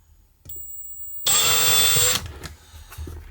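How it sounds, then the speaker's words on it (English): A power drill whirs loudly for about a second after a short lower-pitched run-up aboard a sailing yacht, then stops, followed by scattered clicks and handling noise. "Right, now for the tricky bit, the drilling."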